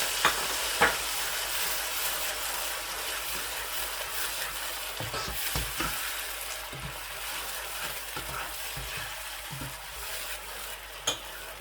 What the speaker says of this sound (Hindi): अदरक ऐड करते ही प्याज की पेस्ट जो है वो भी ऐड कर दें